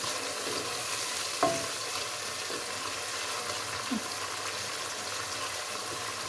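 Tomato paste frying in a pan as a leek dish is cooked, giving a steady, close sizzle and hiss throughout with a couple of brief stirring clinks.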